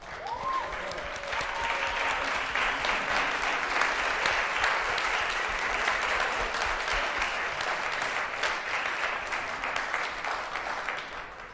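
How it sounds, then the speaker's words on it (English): A crowd of audience members claps steadily and fairly loud for student volunteers at a spring business pitch competition, sustained applause with a faint voice near the start. "You're all well deserving of that round of applause"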